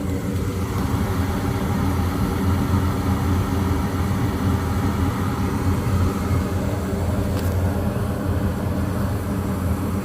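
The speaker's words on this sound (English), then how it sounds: "I think that's an inducer fan motor in the gas valve" A gas furnace's inducer fan motor runs in a continuous, loud, even droning hum with a rumbling low end during a repair on a cold night, steady for the whole stretch with no voices.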